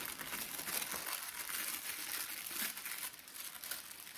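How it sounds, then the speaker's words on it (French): Paper for a junk journal crinkles and tears in a continuous close rustle with soft crackling bursts. It is fairly quiet and fills the short moment without any voices. "J'aimerais bien le déchirer mal"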